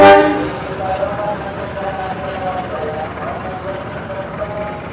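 A train passes at Cirebon Prujakan station in Indonesia, making a loud, steady rolling rumble with a tonal mechanical whine that is strongest at the start and then holds level.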